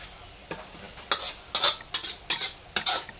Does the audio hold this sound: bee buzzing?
no